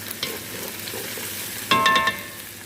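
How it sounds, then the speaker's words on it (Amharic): Onions frying in a pot, a soft steady sizzle that swells into a louder burst of crackling about two-thirds through, then settles back to a low hiss. "እዚህ ጋር ደግሞ ሽንኩርት እያቁላለሁ ነው"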